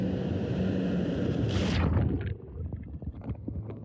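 A jet ski being ridden on water near São Paulo, its engine rumbling loudly under wind buffeting on the microphone before dropping away to quieter water and motor noise, with no talk.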